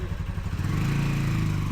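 Motorcycle engine passing during heavy monsoon rain in Bangladesh, a brief low rumbling drone that swells over rain noise.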